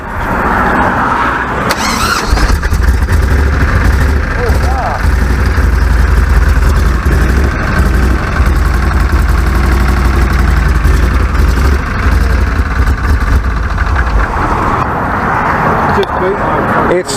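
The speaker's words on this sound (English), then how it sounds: "It's super loud up top. You can hear it. It's like tick tick tick tick up top." A turbocharged Chevrolet Suburban, running on 89 fuel at 10 pounds of boost, idles loud and close with a steady engine drone and a fast ticking from the top end, while people talk over it throughout.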